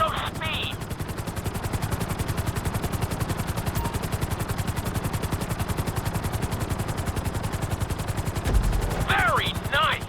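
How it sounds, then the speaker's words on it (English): A helicopter in Grand Theft Auto 5 flies with a steady, rapid rotor chop that continues throughout, loud and close, while a voice talks briefly at the start and again near the end. "we'll see how well you handle the chopper"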